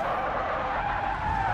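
A car in BeamNG.drive skids with its front wheels locked, a loud continuous tire squeal over engine noise lasting the whole moment.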